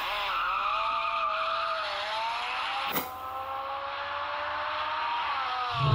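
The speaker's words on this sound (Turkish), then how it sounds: "3 tanesi ön plana çıkıyor. Bunlar da Ferrari Italia 458'in motor sesleri." A Ferrari 458 Italia engine-sound ringtone plays on a Vertu Ferrari smartphone: a sustained high engine note that shifts pitch with a sharp tire-squeal burst midway, ending in a rising rev.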